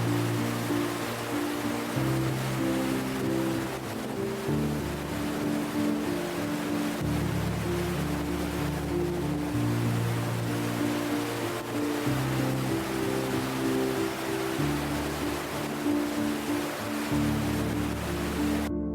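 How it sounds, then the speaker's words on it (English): Gullfoss waterfall on the Golden Circle in Iceland, a steady broadband roar of falling water heard close and loud, continuous and unbroken, with a low rumble beneath the rush and no voices. "This stunning waterfall is part of the Hvitserkur River"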